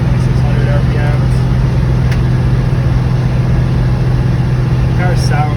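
A Pontiac GTO hardtop with a Tri-Power engine and 4-speed holds a steady, loud low drone at about 2,500 RPM while driving, with a constant throbbing hum throughout.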